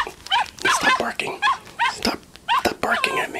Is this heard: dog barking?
yes